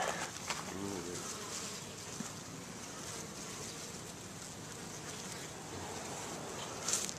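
Honey bees from newly arrived packages buzz continuously in a soft, steady drone with faint outdoor noise in Denison, Texas, individual insects passing close now and then.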